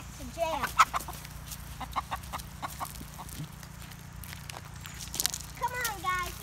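Chickens cluck and squawk in short scattered bursts at close range, with a person speaking among them and footsteps in the background.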